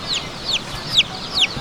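Chicken bought at a market clucking four times in quick, evenly spaced high squawks, close and clear over faint background noise.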